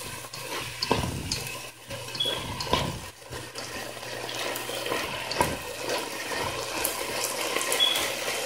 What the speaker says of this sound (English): Now we are adding water.